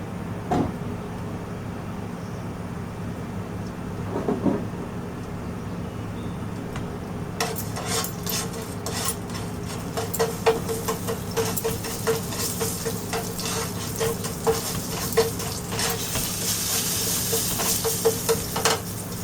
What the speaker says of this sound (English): the asafoetida and the cumin seed is roasted very nicely